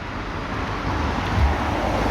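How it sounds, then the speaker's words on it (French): A single car passes along a nearby road, a steady low rumble swelling slightly toward the middle and fading, with wind noise beneath. "il y a une voiture qui passe là"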